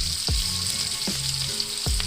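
Beef short ribs sizzle on a stovetop in a steady, close crackling hiss, broken by three dull low knocks spaced through the clip.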